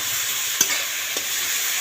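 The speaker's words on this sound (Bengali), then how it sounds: "এটা দিয়ে আমি আর একটু ভাজা ভাজা করে নেব।" Ground turmeric and meat masala fry in hot oil in a pan while being stirred, a steady close hiss of sizzling broken by a couple of soft scraping knocks of the spoon, with no voices.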